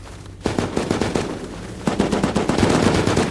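Rapid gunfire in the survival game Rust, with bursts of automatic shots in quick succession, loud and close, broken by short pauses and then resuming more densely.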